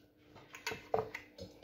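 A knife cutting pumpkin and carrots into chunks on a board for pumpkin soup, a few quiet, irregular close taps over about a second and a half.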